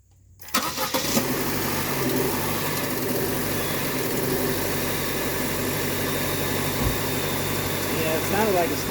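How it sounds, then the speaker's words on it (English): A 2011-2015 Chevrolet Cruze engine cranks and catches after a moment of quiet, then runs at a steady, loud idle with a continuous low rumble. "let me go start the engine and see if it surges or not."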